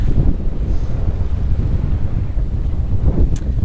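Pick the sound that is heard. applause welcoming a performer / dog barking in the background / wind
wind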